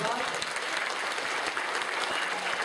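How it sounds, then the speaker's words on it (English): Audience applause for Dr. Cornel West after his talk, brisk dense clapping from a crowd at fairly close range, with a voice briefly audible beneath it. "Everybody join us in a round of applause."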